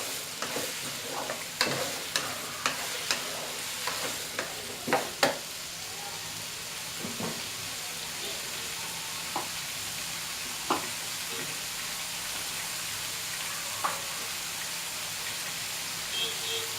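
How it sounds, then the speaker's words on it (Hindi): Potato pieces fry in a pan with a steady close sizzle, while a spoon stirs and scrapes through them in irregular knocks, most often near the start. "जब तक गोल्डन कलर ना आ जाए इसको आप फ्राई कर लें।"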